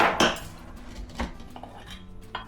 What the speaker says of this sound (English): I chopped up 2 gherkins, which is roughly about 2 tablespoons of gherkins